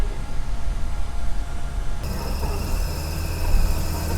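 A 1964 Chevy Nova V8 engine idles steadily with the air conditioning running, a continuous low rumble that thickens partway through as the idle is bumped up, with a faint whine above it.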